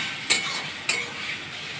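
Potato and pointed gourd pieces sautéing with turmeric, chilli and salt in a hot pan for a fish curry, a steady close sizzle with two sharp spatula scrapes and stirs cutting through.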